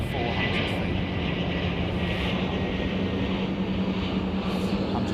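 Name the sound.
aircraft on approach to runway 09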